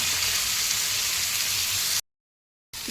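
Ginger and garlic sauté in a pan with a steady, hissing sizzle that runs unbroken, then cuts out briefly to silence before resuming.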